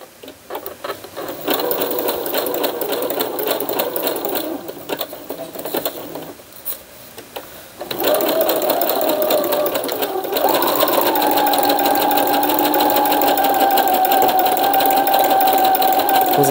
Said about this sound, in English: now I can see it is sewing